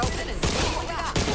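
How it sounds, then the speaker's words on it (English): Bots in the Back 4 Blood co-op zombie shooter fire guns in a rapid, loud, close burst of overlapping shots lasting just over a second, with dense game sound underneath. "They're shooting us in the back"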